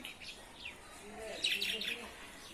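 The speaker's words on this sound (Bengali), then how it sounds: "হচ্ছে শালিক পাখি 3টা" Three myna birds call near a mud house with a tin roof, a few bright whistled notes and chattering chirps in quick succession, moderately close, over soft background hum and faint voices.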